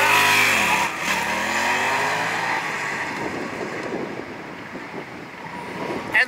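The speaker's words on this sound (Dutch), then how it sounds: "Nu gewoon even hard optrekken in de 1." A motorcycle pulls away hard in first gear during wheelie practice, its engine note climbing steadily as it revs up and then tailing off into a wash of wind and road noise as it moves away.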